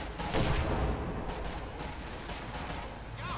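Gunfire in Company of Heroes 2 destroying an anti-tank gun in a 1v1 match: dense, continuous battle noise with heavy rumbling blasts and crackling shots, loud and sustained, with a stronger burst near the start.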